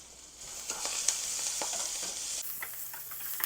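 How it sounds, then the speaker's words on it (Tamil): Garlic and chillies fry in hot oil for chilli garlic chicken, a moderate crackling sizzle broken by repeated stirring clinks and scrapes, with no voices. "பூண்டு முதல்ல போடணும். அப்புறம் மிளகா எல்லாம் போட்டு நல்லா வறுக்கணும்."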